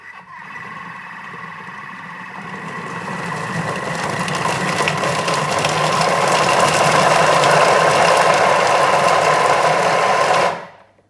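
A Thermomix whirs steadily at speed 5 for about ten seconds chopping vegetables, its motor rising slightly as it chops, then cuts off abruptly.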